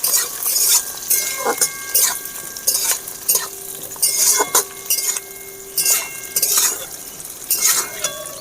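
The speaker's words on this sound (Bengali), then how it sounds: "পেঁয়াজ কুচি দিয়ে দেব। অল্প একটু নেড়ে নেব।" A spoon stirs chopped onion in a frying pan for chicken do-pyaza, with repeated scraping and clinking strokes over a steady sizzle, close and fairly loud, and no talking.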